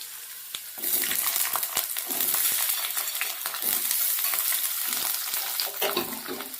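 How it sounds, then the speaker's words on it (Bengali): Diced potatoes fry in hot mustard oil, crackling and sizzling loudly and close, with frequent scraping and clinking from stirring punctuating a steady frying hiss. "গ্যাসটাকে মিডিয়ামে করে আলুটাকে আগে খুব ভালো করে ভেজে নেব"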